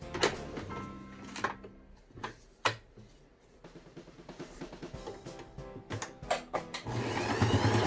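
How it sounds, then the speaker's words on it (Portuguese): A sewing machine stitches fabric for a cloth vaccination card holder, running in quick rhythmic bursts of mechanical ticking with pauses and a sharp clack, then a longer steady whirring run at the end. "E agora eu vou passar uma costura aqui, ó, certo? Nessas 3 partes."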